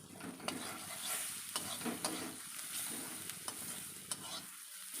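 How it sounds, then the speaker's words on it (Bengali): Turmeric powder is stirred into taro greens in a pan: a sizzling bed of frying under repeated sharp scraping taps of a spoon against the metal, close and fairly loud, with no talking. "হলুদ গুঁড়ো দেওয়ার পর আমি ভালোভাবে মিশিয়ে নিচ্ছি"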